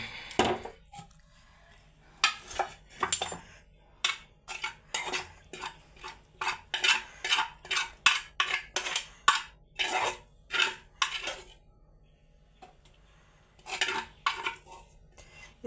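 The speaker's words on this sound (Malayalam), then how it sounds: "സവാള വഴറ്റിയതും ഇതെല്ലാം കൂടെ ഇതിനകത്തോട്ട് ഇട്ട് മിക്സ് ചെയ്യാം" Sautéed onion and garlic stirred and mixed in a pan, a long run of repeated utensil scrapes and clinks against the metal, steady and close, easing off near the end.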